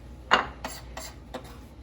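Garlic is mashed in a kitchen for bruschetta, giving several sharp knocks and presses against a board or dish, one loud strike followed by three softer ones, close by, with no talking.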